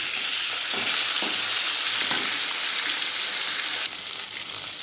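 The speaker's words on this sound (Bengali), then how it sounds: "মাছ ভাজবো দিয়ে যা ফাটছে, গলাতে এসে পড়েছে গরম তেল" Fish fries in hot oil, giving a loud, close, steady sizzle with dense crackling spatter throughout.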